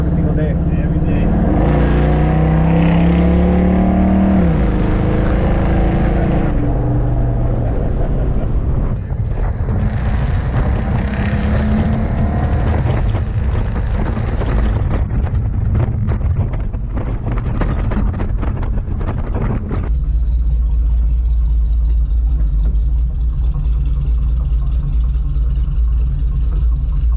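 A 1971 car out on a drive, its engine rumbling steadily under heavy wind buffeting, with the note shifting as it accelerates and settles; people talk over the engine noise at times.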